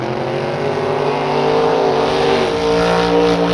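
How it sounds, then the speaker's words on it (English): Drag racing cars, a Nova and a 1963 Corvette, rev hard at the line of a Kil-Kare Dragway outlaw event, a loud, steady engine roar that swells slightly partway through. "Up next, Neil Brown in the right lane. In the Nova, left lane. In the 63 Corvette"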